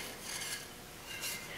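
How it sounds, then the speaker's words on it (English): Wooden dowels are fed through a wood threader for a Shaker candle stand, giving a close, continuous dry rasp of cutting wood that swells in two brief surges with no voices. "we'll go ahead and we'll run these through the wood threader."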